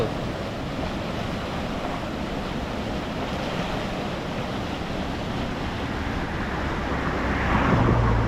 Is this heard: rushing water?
yes